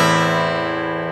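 Single acoustic guitar chord strummed across all six strings, ringing out with a dense, slightly muddy sustain and slowly fading over about a second, close with no voice.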